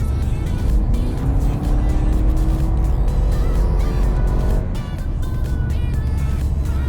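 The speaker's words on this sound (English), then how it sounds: "It's surprisingly loud. And once the turbo kicks in, you're really gone." A Mercedes-Benz GLA accelerating hard as the turbo kicks in, engine note climbing steadily and loud up close, then easing off into a lower steady drone.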